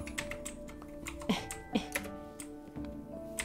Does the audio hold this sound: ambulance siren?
no